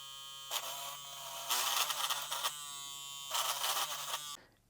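A JRL Diamante hair clipper runs on high speed with a steady close buzz, swelling twice into rougher bursts as it passes through a brush, then cuts off abruptly at the end.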